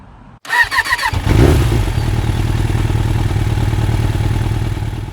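A 2021 BMW K1600B Bagger touring motorcycle cranks and starts close by, its six-cylinder engine catching with a rising rev and then settling into a steady, smooth idle.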